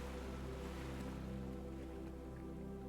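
Ocean waves wash steadily onto a sandy beach in a continuous, soft, rolling surge, with no distinct breaks, under a low sustained tonal drone.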